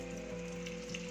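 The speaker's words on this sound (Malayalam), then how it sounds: "ഇതിലേക്ക് ഞാൻ 1 സ്പൂൺ നെയ്യ് ഇടുവാണേ" A spoonful of ghee sizzles in a hot pan on a gas stove, a faint, steady crackle over a low constant hum, heard alone and briefly.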